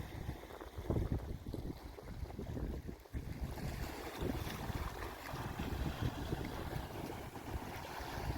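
Ocean water washing against the shore at low tide on Pico Island in the Azores, a steady broadband rush of surf with light breeze and wind buffeting the microphone throughout, no talking.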